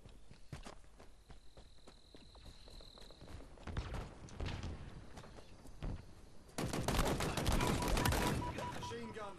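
Automatic gunfire and footsteps in a Halo Infinite Big Team Battle capture-the-flag match, with scattered shots building to a dense, loud burst of machine gun fire near the end.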